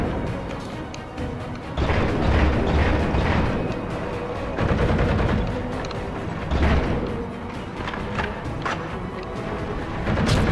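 Heavy gunfire and explosive impacts in the Halo 4 video game on PC, dense overlapping bursts and booms that keep going for the whole stretch with no clear pauses.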